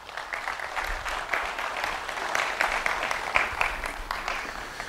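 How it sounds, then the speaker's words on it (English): An audience claps at a live presentation, producing a steady patter of many hands at moderate loudness that holds for several seconds without voices. "give them a round of applause"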